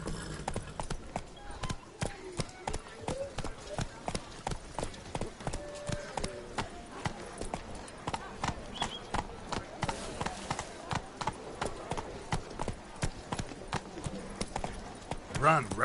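Roach the horse gallops through Beauclair in The Witcher 3, steady hoofbeat clip-clop thumping in a quick rhythm throughout, with a voice talking now and then over it.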